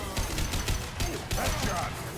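Gunfire in the video game Mass Effect 2 during a firefight, dense bursts of shots and impacts layered over a constant din of combat effects, loud and busy throughout.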